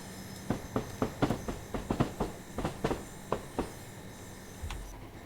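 A Class 385 electric train in Train Simulator Classic clicks over rail joints in an irregular run of sharp clacks above a low rolling hum, then settles into quieter running with no voices.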